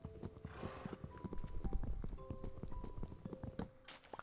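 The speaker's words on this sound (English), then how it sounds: "I just tamed the horse" A tamed horse in Minecraft clops along with quick, irregular hoof steps, and a brief whinny breaks in near the start. Faint game tones sound in the background.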